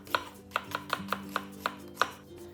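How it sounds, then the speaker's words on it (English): A knife slicing through half an onion on a cutting board for a bok choy kimchi, eight crisp, evenly spaced chops at close range with no talking. "Slice a half an onion"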